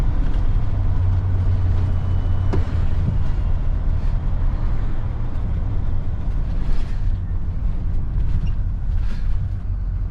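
Interior rumble of an Airstream Argosy 24 motorhome cruising at about 50 mph, a steady loud low drone of engine and road noise with rattles, continuous throughout.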